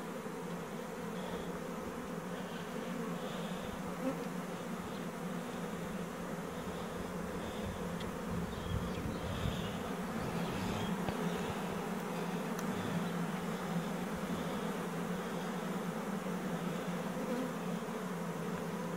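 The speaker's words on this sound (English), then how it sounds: "Come on, Bee, let's go home" Feral honeybees from a small-cell hive buzz steadily in a dense, continuous drone that stays fairly even throughout, with no talking.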